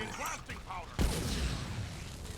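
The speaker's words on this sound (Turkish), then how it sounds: "Lan bunlar patlıyor." Enemies in Lord of the Rings: War in the North blow up in a sudden, loud, booming blast followed by a rumbling tail, just after a voice speaks.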